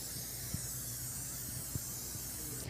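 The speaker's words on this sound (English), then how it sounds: "spray your grill" A continuous hissing spray of cooking spray from an aerosol can onto a grill, steady and close, with faint soft knocks underneath and no talking.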